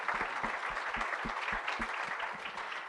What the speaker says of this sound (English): give another round of applause to these 3 panelists